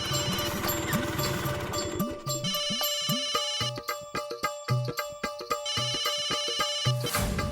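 A mobile phone ringtone plays loudly and close by, a repeating electronic melody with bleat-like swooping tones and sharp rhythmic pulses that carries on for several seconds before cutting off.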